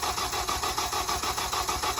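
A Honda K24 VTEC engine in a 7th-gen car cranks and catches on its first start, with a steady, rhythmically pulsing mechanical churn running throughout, close and fairly loud.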